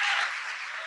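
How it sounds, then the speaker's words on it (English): Under a second of steady audience applause at a campus Open Education Week celebration, a dense wash of clapping that fades slightly toward the end. "Can we get a big round of applause for Openci?"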